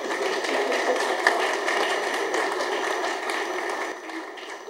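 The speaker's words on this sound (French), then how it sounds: "Ça s'applaudit s'il vous plaît." A seated audience at a talk about young people's reading crisis claps steadily for the speaker, with a dense, even patter of hands and a faint steady hum underneath, no voices over it.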